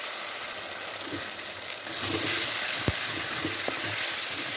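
Ingredients for a mushroom curry fry and sizzle steadily in a pan, with a continuous close hiss and occasional scraping stirs, alone without talk.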